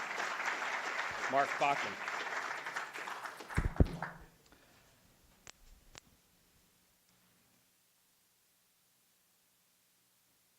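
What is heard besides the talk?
audience applauding the first speaker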